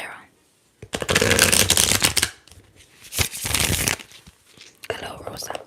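Tarot cards are shuffled up close in three loud, crisp riffling bursts, each a rapid flutter of slapping card edges lasting about a second, separated by short quiet pauses.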